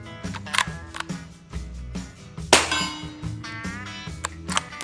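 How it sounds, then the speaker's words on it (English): Suppressed .30-caliber rifle rounds strike a steel target about 75 feet away, ringing out as sharp metallic clangs, one much louder near the middle, with quieter clinks and ringing around them. "The loudest part is when the bullet hits the target. So we're shooting at some steel about 75 feet away."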